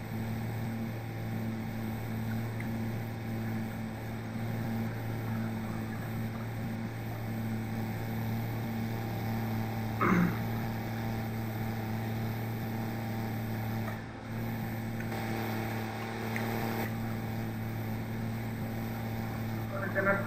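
Arjun 605 4x4 tractor in Farming Simulator 22 on a wheat-harvesting map, its engine droning as a steady low hum with a constant tonal whine throughout, a couple of brief knocks midway.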